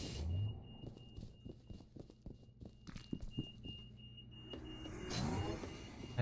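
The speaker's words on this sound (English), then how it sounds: "What is that noise? Oh, that's the alarm." A fire alarm in the video game FEAR 2: Project Origin gives a thin, steady high electronic tone. It sounds faint and distant under scattered thuds, shuffling game sounds and a rising whoosh near the end.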